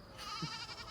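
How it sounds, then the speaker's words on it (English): A goat on a mountaintop gives a faint, wavering bleat, its trembling cry rising and falling briefly at a distance. "We see you goats."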